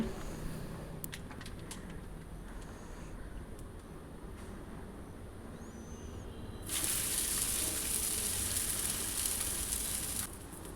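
Oil sizzles loudly on a hot griddle as a thalipeeth flatbread is laid in to fry, a steady hiss that swells sharply partway through and stays strong.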